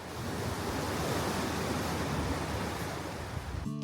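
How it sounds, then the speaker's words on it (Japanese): Rough sea waves on the ocean at a Maldives resort on a cloudy morning after night rain, a continuous broad roar of surf at steady loudness, cutting off abruptly at the very end. "海は少し荒れています"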